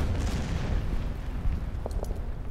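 Artillery in the strategy game Order of Battle, set in the Saipan campaign, fires and explodes as a deep, rumbling boom that rolls on continuously, with a couple of faint sharper pops near the end.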